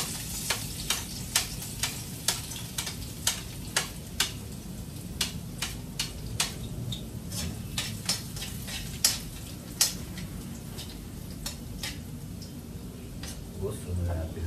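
Garlic frying in a hot pan, a steady crackling sizzle with many sharp pops and spatula ticks scattered throughout, fairly close, while a voice talks now and then.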